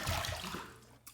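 Water runs briefly during a rinse after a shaving pass, a short close splash and gush that fades before a small final sound.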